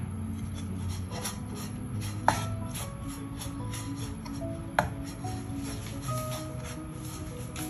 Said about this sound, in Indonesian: selanjutnya kita sangrai deh kelapanya